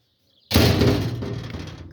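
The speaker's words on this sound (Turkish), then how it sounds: "Kapıyı kapattık arkadaşlar." A door swings shut with a sudden, solid thud that rings out and fades over about a second and a half after a brief quiet lead-in.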